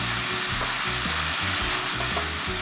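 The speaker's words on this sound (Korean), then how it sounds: "2분에서 3분 동안 볶아주세요" Glass noodles stir-fry in a pan with a dense, steady sizzle, loud and close, broken by rhythmic scraping strokes of stirring.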